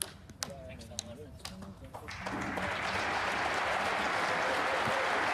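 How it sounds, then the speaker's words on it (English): Crowd applause at a snooker match at the 2024 German Masters, swelling from scattered claps into steady sustained clapping that fills the hall after the final frame is won. "John Higgins takes the applause of the crowd"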